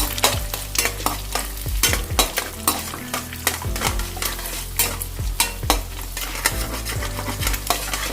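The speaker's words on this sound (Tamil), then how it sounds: "இப்போ அடுத்தது வந்து ஆனியன் ஸ்லைஸ் பண்ணதை ஆட் பண்ணிக்கலாம்." Sliced onions stir-fried in a pan for street-style chicken fried rice, with loud repeated metal scrapes and clanks of the spatula over a continuous sizzle, up close and without talk.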